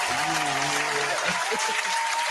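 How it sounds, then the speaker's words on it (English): Steady applause from a crowd fills the whole moment, with a voice speaking briefly underneath the clapping. "Let's clap for her, y'all."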